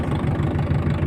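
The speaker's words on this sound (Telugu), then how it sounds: "అడిగో చూడండి, కదులుతుంది ట్రాక్టర్ ఒకటి." A farm tractor's engine idles and chugs steadily at close range on a field during a black gram harvest, its low, even rumble carrying a faint knocking pulse throughout, with no one talking.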